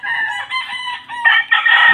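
Gamecock roosters tethered and kept ready for fighting crow repeatedly and loudly, with overlapping calls close by and more crowing swelling toward the end, while clucking fowl sit underneath.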